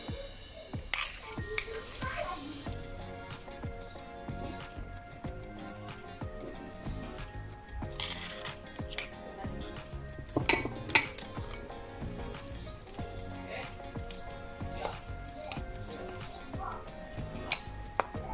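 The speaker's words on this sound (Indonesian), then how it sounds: "Kita aduk rata dulu ya." A utensil stirs a cold, stiff butter mixture in a bowl while making ube purple sweet potato milk bread, with continuous scraping and clinking against the bowl and occasional louder knocks throughout.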